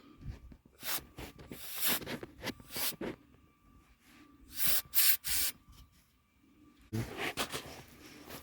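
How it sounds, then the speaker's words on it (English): Part cleaner sprayed in short hissing bursts into a switch on a 2002 Honda Accord, several close spurts separated by brief pauses. "So I get a good soak of my part cleaner in there."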